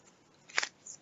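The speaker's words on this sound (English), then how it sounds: "And now we shuffle decks as appropriate." Decks of Gloomhaven board game cards shuffled at a tabletop session: one short, close papery riffle burst lasting about a quarter second, with a fainter flick after it and no voices.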